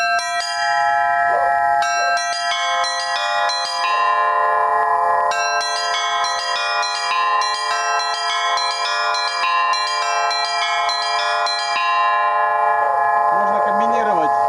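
Russian-style church bells rung in a lesson pattern, several bronze bells of different pitches sounding together in a steady, continuous, resonant peal with overlapping strikes and long ringing tones, loud and close throughout.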